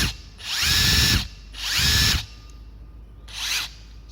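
A Makita TW004G cordless impact wrench runs in three short bursts, each a loud, close whirring hammering rattle lasting under a second, separated by brief pauses with no talk.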